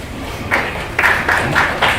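Scattered applause from the public gallery at a school board meeting, a few short bursts of clapping that rise and fade in quick succession, moderately close in a room.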